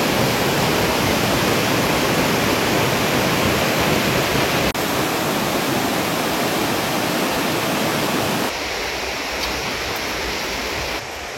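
A fast-flowing river rushes beneath a bridge in Kinabalu Park, Malaysia, making a loud, dense, unbroken roar of water close by. The roar eases slightly toward the end.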